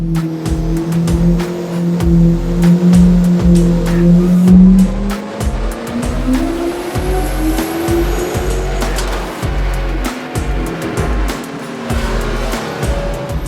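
A high-boost Jeep engine on a dyno, chasing around 1000 hp, roars loudly through a full-throttle pull, its pitch climbing steadily, with sharp pops and crackles scattered through the run.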